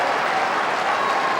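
Dense, loud crowd applause fills a stadium at an Australian football match between the Kangaroos and St Kilda, a steady roar of clapping without break.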